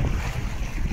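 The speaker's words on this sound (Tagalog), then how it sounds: "Medyo malakas yung hangin pero kaya naman." Strong wind buffets the microphone at sea during early-morning fishing, a steady low roar of gusts mixed with wave and boat noise, with no voices.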